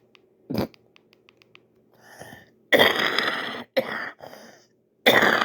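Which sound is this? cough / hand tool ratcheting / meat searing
cough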